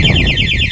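Two-way motorcycle alarm sounding steadily close by, a rapid warbling electronic siren that sweeps repeatedly over a low background hum.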